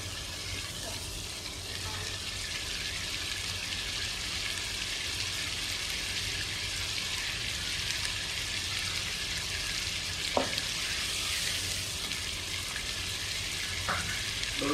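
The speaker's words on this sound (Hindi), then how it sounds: "ये खुश्क हो गया है, अच्छी तरह फ्राई हो गया है" Green beef karahi fries in a pan with a loud, continuous sizzle, broken by a couple of sharp clinks from the utensil.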